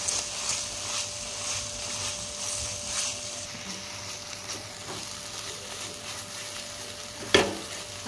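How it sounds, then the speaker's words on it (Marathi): Ground masala paste sautés with onions in a pan, giving a soft, fairly faint sizzle with occasional stirring scrapes and one sharper knock near the end, with no talking. "मसाला आपण या कांद्यामध्ये परतवून घेऊया।"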